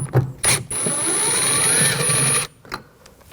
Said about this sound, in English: Now we're going to take these screws out, use a T20 socket.